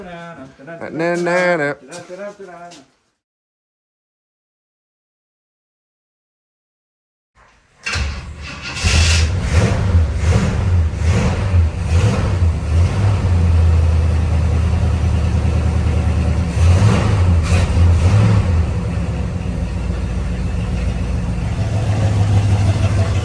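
A 1968 Pontiac GTO with a 400 V8 and three-speed gearbox fires up after a brief voice and a silent pause, then settles into a loud, close, rumbling idle that carries on steadily to the end.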